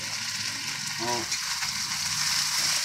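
Laing, taro leaves with bagoong, sautéing in a pan, giving a steady close sizzle throughout with a brief stirring scrape partway through.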